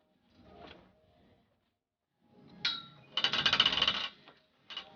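The bottom bar of a longarm quilting frame is rolled, giving clicking ratchet and gear sounds in short bursts, with a dense run of rapid clicks in the middle, close and fairly quiet.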